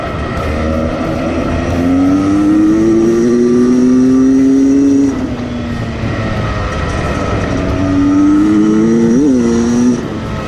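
A 2019 Beta 300 Xtrainer two-stroke enduro motorcycle revs up loud and near, its engine note climbing twice with a brief blip, with no voices.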